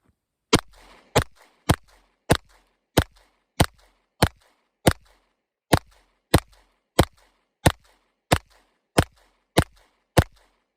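Smith & Wesson M&P 2.0 full-size 9mm pistol firing MagTech 115 grain rounds, about seventeen sharp, loud shots in a steady, evenly spaced string, each ringing off briefly.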